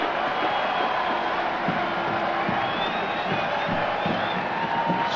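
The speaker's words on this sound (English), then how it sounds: "Scattered applause from the crowd here, applauding the first down." Scattered stadium crowd applause and cheering after a first down at a 1988 Michigan versus Wisconsin college football game, a steady broad wash of clapping and shouts heard from a distance with no talk over it.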